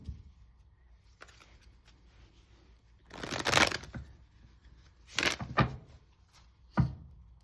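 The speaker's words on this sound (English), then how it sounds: "Let's go ahead and pull a few love oracle cards here." Love oracle cards being shuffled in a quiet room for a tarot reading, with three bursts of riffling and flicking, the longest in the middle and a short final flutter, and soft handling noises between them.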